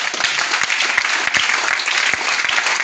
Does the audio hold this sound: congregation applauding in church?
yes